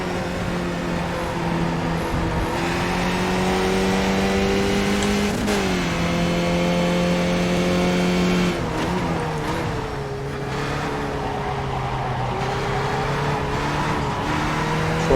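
Race cars in a sim-racing broadcast drive around the track, engines droning steadily with rising and falling pitch through gear changes, continuous and fairly loud with no talking.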